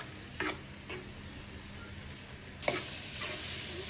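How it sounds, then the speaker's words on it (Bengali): Garlic, onion and dried chili powder sizzle and spit in hot oil for a Bengali tempering, a soft continuous fry with a few sharp crackling bursts and stirring, close and quiet, without voices. "একটু রসুন দিয়া পেঁয়াজ দিয়ে বাগার দিব।"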